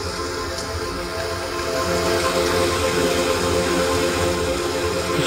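A Moshi talking clock radio plays a sleep sound: a steady, full hiss like rainfall with faint softer textures underneath. It gets slightly louder after the first couple of seconds and continues evenly, with no voices.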